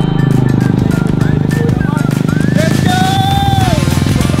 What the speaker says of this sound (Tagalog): Dito na unang nakasakay si Erwin ng motor